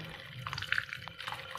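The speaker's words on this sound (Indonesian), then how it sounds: "Kita bilas dengan air keran yang mengalir." Cupping equipment rinsed under a running tap, a soft steady stream of water splashing and trickling with small bright drips, close and fairly quiet, no voices.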